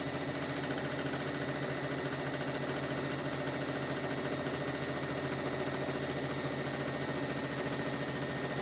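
A sewing machine stitches quilt pieces together, its motor giving a steady, continuous whirring hum with a fine rapid needle pulse throughout, and no voices.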